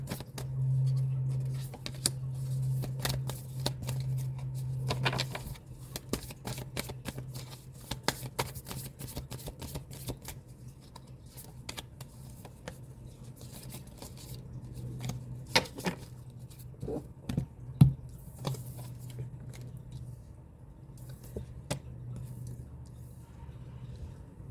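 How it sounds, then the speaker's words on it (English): Quiet riffling and soft taps of a deck of tarot cards being shuffled over and over, with scattered crisp flicks against a hushed background. "One more shuffle"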